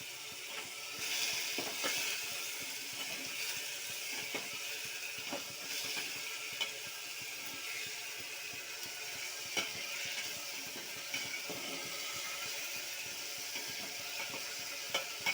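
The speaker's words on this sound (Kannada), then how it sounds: "ಈ ರೀತಿ ಎಣ್ಣೆಯಲ್ಲಿ ಚೆನ್ನಾಗಿ ಫ್ರೈ ಆಗಬೇಕಿದು" Spicy chilli frying in oil with curry leaves and mint, a continuous close crackling sizzle spotted with small pops and occasional scraping clicks, steady throughout and with no voices.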